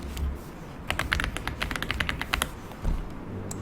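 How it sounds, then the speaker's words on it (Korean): Rapid clicking of computer keyboard keys, a dense run of close, crisp taps with a few separate strokes near the end, heard alone without talk. "키보드에서 F7 누르셨어요?"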